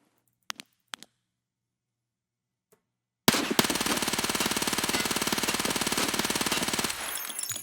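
Vector 9x19 submachine gun in Escape From Tarkov firing one long, rapid full-auto burst of about four seconds, loud and close, after a few quiet clicks and taps.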